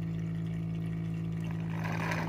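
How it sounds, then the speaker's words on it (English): An Obode P8 robot mop base station pumps water into its cleaning basin with a steady, close electric hum and a faint gurgling trickle rising near the end. "You can hear it pumping water down into that basin."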